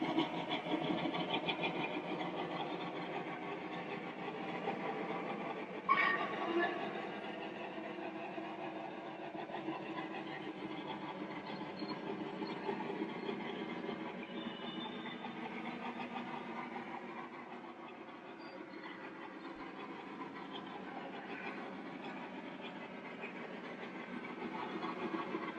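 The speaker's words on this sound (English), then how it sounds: "it looks like it's running pretty clean, which is always nice to see on a locomotive brand new out of the box" A brand new Lionel model train locomotive runs steadily on track with a continuous mechanical whir and rumble at moderate level, lasting throughout without talking.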